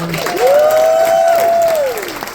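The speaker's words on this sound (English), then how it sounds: "Another round of applause for all our storytellers." An audience applauds steadily, a dense wash of clapping with a sustained tone ringing over it.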